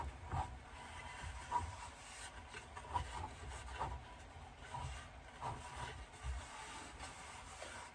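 Tack cloth wiped across a wooden serving tray in soft, repeated rubbing strokes, a quiet rhythmic scuffing that rises and falls with each pass, close by and alone.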